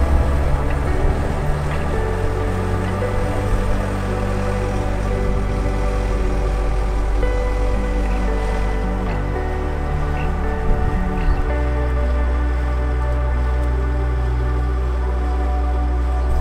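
Strong wind buffets an open build site on a hot day, where a metal roof truss is being lifted into place for a barndominium. The gusts form a steady, loud broadband roar across the whole clip, mixed with low engine rumble and no talk.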